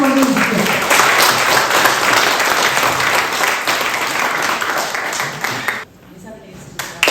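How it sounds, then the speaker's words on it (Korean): Audience applause at a political meeting, a report session held by a National Assembly member in her hometown: dense, sustained clapping from a large crowd for about six seconds, then fading abruptly to a quieter hall. "예, 한 박수 한번 주십시오."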